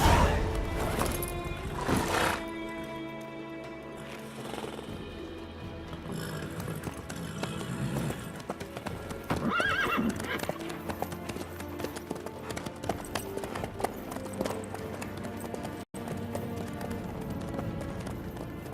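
Horse hooves clip-clopping in The Witcher 3, a continuous rhythmic trot with an occasional neigh, layered over in-game music and ambience.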